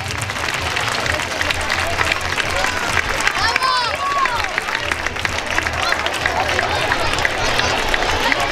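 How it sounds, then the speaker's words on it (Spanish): An audience at the San Pedro 2016 festival opening proclamation breaks into sustained applause, dense and steady clapping for several seconds with crowd murmur and a few voices mixed in. "Un aplauso para ellos."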